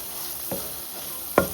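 Mushrooms sizzle steadily in a hot pan, with a couple of brief scraping stirs from a utensil.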